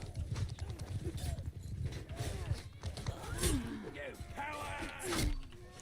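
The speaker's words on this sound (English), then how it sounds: "Ooh, horse!" Horse hooves clip-clop in a medieval battle in the game Mount & Blade: Bannerlord, steady and fairly close among clanks and game noises, with someone talking over them.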